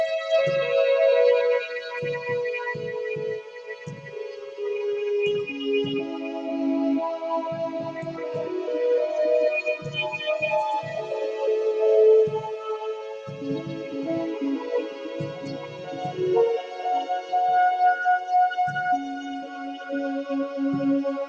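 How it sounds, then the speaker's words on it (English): Sustained synth tones wash through a long delay and hall-like reverb tail plugin in Ableton Live, notes smearing into a dense, continuous ambient bed with soft repeating echoes, steady and moderately loud throughout. "It gives you a nice long decay that sounds like it's in a concert hall."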